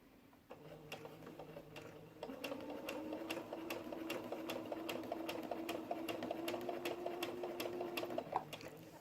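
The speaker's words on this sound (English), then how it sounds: "move your pins so you don't break your sewing machine needles" A sewing machine runs steadily, its needle clicking in a rapid even rhythm as it stitches, with a low motor hum underneath.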